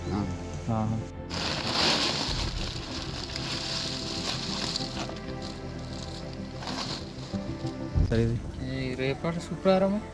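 Steady rain falls outdoors near Araku, a continuous hiss on surfaces throughout, with a voice talking over it.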